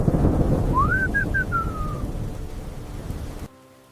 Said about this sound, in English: Then, a sudden storm threatens everything they have built.